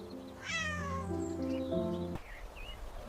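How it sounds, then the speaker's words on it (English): A cat meows twice in a long drawn-out wail, rising and then falling, close and clear with no other voices, followed by a brief quiet tail. "Cat. This is a cat."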